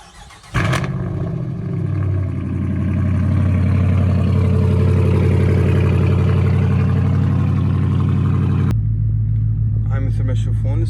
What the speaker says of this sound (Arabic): سويت كم شغلة بالاكزاست وصوتها حيل عالي